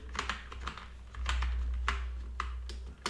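Rapid keystrokes on a computer keyboard while entering a MySQL create-database query, a close run of irregular clicks with brief pauses, alone over a low steady hum.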